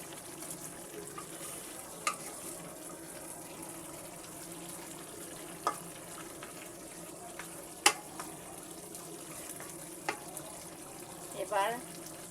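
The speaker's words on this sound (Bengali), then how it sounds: "আলুটা দিয়ে আমি সুন্দর করে নেড়ে দেব।" Potatoes fry in a pot for beef khichuri, a steady low sizzle broken by a few sharp clinks and scrapes of stirring, with a brief bubbling near the end.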